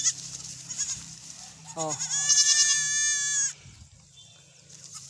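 A goat, a pet kept on a farm, lets out one long wavering bleat at close range, rising from a low rumble of background noise, with a person's brief short exclamation afterward.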